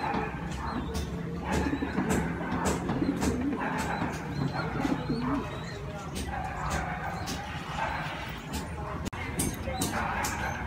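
Pigeons coo in a racing pigeon loft amid steady outdoor ambience, with scattered bird calls, occasional dog barks and a voice speaking at times.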